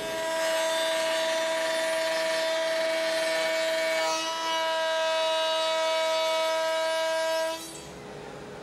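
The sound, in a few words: router bit cutting wood for a panel bed socket with a jig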